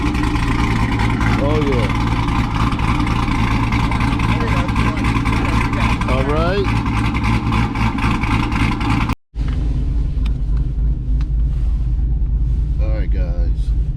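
Cammed Chevrolet Corvette C5 engine running loud with a steady, heavy rumble throughout, briefly cutting out near the end before resuming, while people talk over it.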